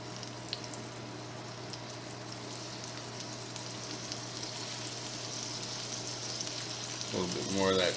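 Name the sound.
shrimp sizzling in a 12-inch cast iron skillet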